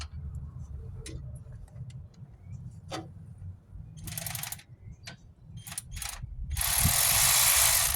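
Ratchet cranking down the alternator bolt on a 1997 Toyota Corolla, close, clicking pawl strokes in irregular bursts, ending in a fast, loud run of clicks, with no talking.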